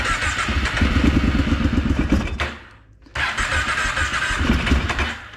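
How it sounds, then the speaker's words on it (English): A cold Kawasaki Brute ATV engine cranks and catches on choke, running rough and uneven up close, nearly dying out midway, then restarting and revving irregularly; no speech. "This thing's a little iffy to start on cold."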